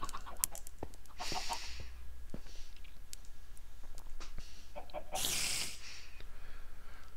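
Little chickens in a homesteading video game give short clucks and clicks at a steady background level, with a louder burst of clucking near the end.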